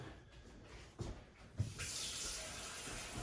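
Hot water gushes from a kitchen tap during crème brûlée preparation. A steady hiss starts partway through, after a couple of soft knocks, and runs on evenly at close range.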